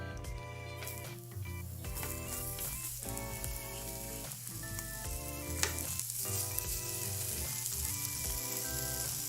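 Onions sizzling on a Japanese gyukaku-style BBQ grill beside wagyu beef fat, a steady quiet crackling hiss with small pops, close up, while tonal background music plays underneath.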